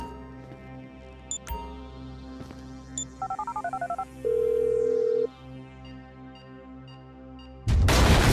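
Phone call in Grand Theft Auto V on PlayStation 5: a rapid trilling ring pattern, then a steady electronic tone, set among game beeps and rumbling background, moderately loud, ending in a burst of noise.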